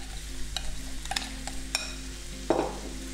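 Lamb tossed with minced garlic in a bowl for souvlaki, heard as a few light scraping, clinking stirs with a soft wet sizzle-like rustle and one louder mixing burst near the end.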